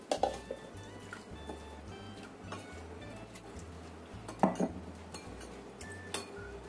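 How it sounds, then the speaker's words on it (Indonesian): A utensil scrapes and clinks against a pan in a steady stirring rhythm, with a few louder metallic taps over a low background hum. "Kita aduk sampai rata."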